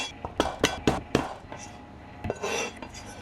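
Galangal is chopped and bashed on a board, a run of hard knocks and clinks at first, then scattered thuds and a softer scraping rustle, close by.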